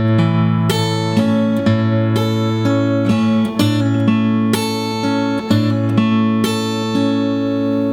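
Fingerpicked acoustic guitar in standard tuning plays the first three parts of a song, a steady flow of plucked notes over a sustained low bass, close and unaccompanied by speech.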